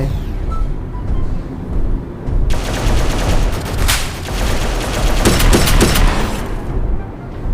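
Gunfire in a shooting video game: after a quieter start, loud bursts of rapid automatic fire break out, with a cluster of sharp, close shots near the end before the firing fades.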